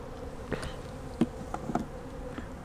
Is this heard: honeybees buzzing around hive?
yes